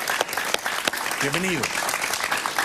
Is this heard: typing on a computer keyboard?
no